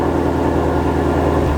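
A Shelby Mustang GT350R engine in sport exhaust mode rumbles steadily at idle with a deep, throaty exhaust tone, close by and continuous.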